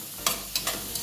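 Onion, bacon and calabresa sausage fry in a pan with a steady sizzle, broken by a few short, sharp stirring scrapes and spatters, close and moderately loud with no talking.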